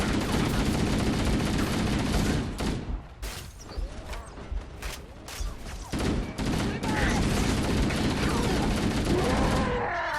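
Needler fire in Halo: Combat Evolved comes as dense, continuous volleys of crackling shots over loud game noise, with brief gaps and then steady fire again.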